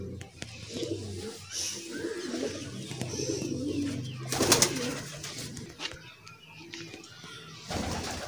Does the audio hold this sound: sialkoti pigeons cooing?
yes